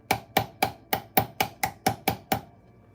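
An old-school hammer strikes a ring about ten times in a quick, even rhythm, each blow a sharp, close metallic tap with a short ring, then it stops.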